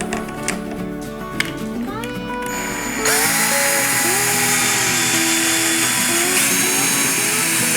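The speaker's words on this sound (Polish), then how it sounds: "Nawiercam sobie wiertarką, żeby mi się nie rozchodziło drewno. I od razu wkręcam wkręt." A power drill bores a pilot hole in wood before a screw is driven in while building a DIY toy workshop, the motor whining close and loud with rising and falling pitch under load.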